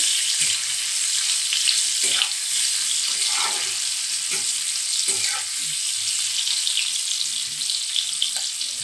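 Food frying lightly in hot oil for a Bengali mocha chingri dish, a loud continuous crackling sizzle close by with occasional soft utensil scrapes and stirring knocks underneath.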